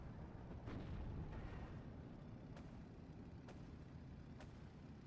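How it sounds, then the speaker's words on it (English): Anti-aircraft flak fire and explosions from the WWII strategy game Steel Division 2 rumble as a dense, continuous low roar, with a few faint sharp cracks breaking through at intervals. "He might go down now due to the flak fire"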